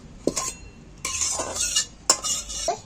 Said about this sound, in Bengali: আলুগুলো সেদ্ধ হয়ে গেছে ঢেলে নিচ্ছি একটা চুবড়ির মধ্যেই ঢেলে নিচ্ছি